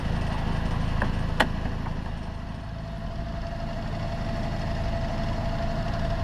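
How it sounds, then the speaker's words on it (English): A boat engine runs steadily on open water near Lake Erie in fog, a constant low droning hum with no change in pace, plus a brief sharp click early on. "Come on, engine, don't fail me now."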